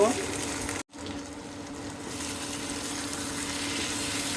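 Eggplant and neem leaves fry for a begun chorchori, a steady broad sizzle in the pan with a sudden split-second dropout near the start before the hiss resumes evenly.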